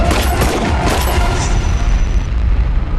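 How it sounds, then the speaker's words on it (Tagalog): Gunfire in a TV drama shootout between two armed men, heard as a loud, dense barrage of booming shots and blasts that fills the whole stretch without a break. "Ilang saglit lang, nagsimula na ang barilan sa pagitan nila."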